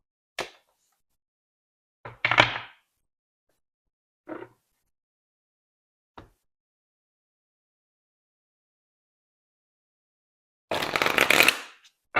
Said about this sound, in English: I shuffled the tarot just a bit more than the oracle